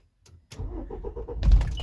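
A car engine cranks briefly, then catches and fires up loudly, close by.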